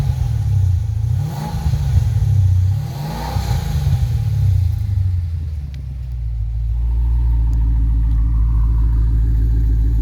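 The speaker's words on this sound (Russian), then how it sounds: "Challenger SRT8, сделали управляемую выхлопную систему." Dodge Challenger SRT8 with a controllable exhaust set to quiet mode, its V8 revved twice in loud swelling bursts, then settling into a steady deep idle rumble close by.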